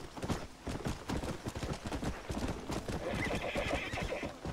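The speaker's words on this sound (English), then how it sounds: "Whoa. Okay, horse. Calm down." A horse in the Red Dead Redemption video game neighs over rhythmic, close hoofbeats clopping steadily along a trail, loud and clear with little else around.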